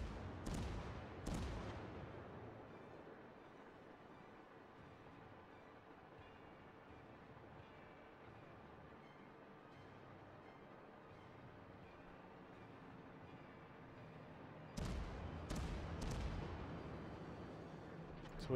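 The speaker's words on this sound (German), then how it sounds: "So, jetzt schießen die zurück." Naval guns from enemy warships boom in World of Warships, with sharp heavy blasts at the start and again near the end and a low rumbling battle hum between them.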